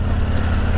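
A Yamaha MT01 1670cc motorcycle engine rumbles steadily in second gear while riding, a low, continuous, moderately faint throb with no other sounds over it.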